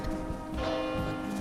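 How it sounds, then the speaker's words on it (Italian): Church bells ringing out in an Italian town, a steady sustained peal of layered tones with a low rumble of movement underneath, fairly near and continuous. "Intanto che le campane smettono di suonare"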